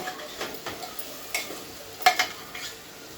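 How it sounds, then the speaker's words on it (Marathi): Chopped okra tipped into vegetables frying in a pan for a Ramnavami thali, then stirred: soft scraping strokes and a few brief clinks over a faint sizzle, close and fairly quiet, with no talking. "भेंडीचे 4-5 भेंडी घेतले आणि बारीक तुकडे करून त्या भाजीत टाकत आहे"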